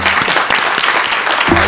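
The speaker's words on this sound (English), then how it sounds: "Let's give her a round of applause." Audience at a Sacramento city council meeting bursts into loud, close applause, a dense burst of clapping that fills the short moment.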